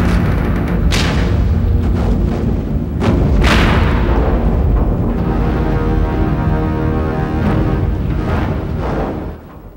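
Film pyrotechnic gas explosion as a building collapses: heavy booming bursts and thuds followed by a long, loud rumbling crash of falling debris that fades at the end.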